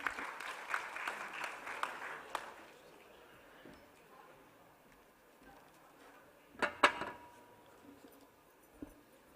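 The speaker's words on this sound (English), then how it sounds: "Can we have a big round of applause for Mr. Satish Kumar?" Scattered clapping from a finance conclave audience opens the clip briefly, then fades into a quiet room with a few faint isolated claps and a short burst later on.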